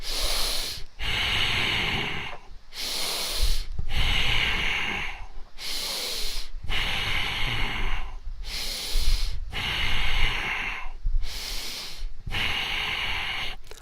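Loud, forceful breaths from a senior fitness dynamic tension class, about eight long, even inhale-exhale cycles repeating at a steady rhythm close to the microphone, with no talking.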